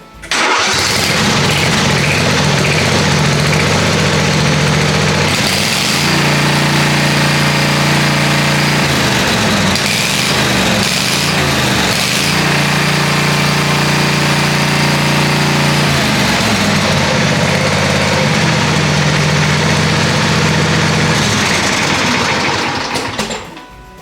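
A Briggs & Stratton Vanguard V-Twin 16 hp engine, newly swapped into a Murray, runs steadily at idle, loud and close, with a constant drone that wavers slightly midway and no voices.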